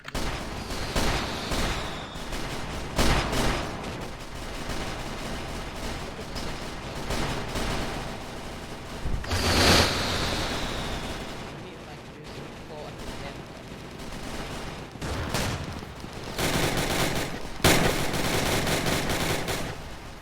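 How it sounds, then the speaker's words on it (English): Shotgun blasts in the Roblox game Zeppelin Wars, repeated shots scattered through a busy, noisy game mix with speech-like sounds and other gunfire around them. "the shotgun is used at any bit of range"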